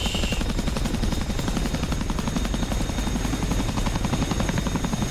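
Continuous rhythmic thudding of a CH-47 Chinook helicopter's twin rotors and turbine whine in the DCS flight simulator, loud and steady from start to finish without talk.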